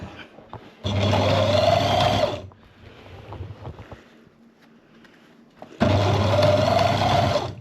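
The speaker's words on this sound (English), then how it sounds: "he's got the sewing machine going" A sewing machine stitching a sailboat boom tent runs in two loud steady bursts of whirring and humming, separated by a quieter stretch of faint handling sounds.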